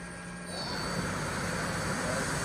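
A 2007 Mori Seiki NL3000Y CNC turning center with its lathe spindle spinning up, a steady mechanical whir with broadband noise that swells slightly after the first half second and holds constant, under faint background activity.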